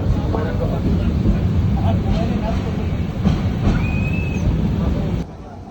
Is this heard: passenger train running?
yes